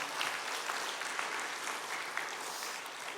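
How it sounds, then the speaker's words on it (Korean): A congregation claps together during a Sunday evening church worship service, a steady, even wash of many hands that fills the space throughout, with no speech over it. "우리 하나님께 영광의 박수를 올려드리기 바랍니다."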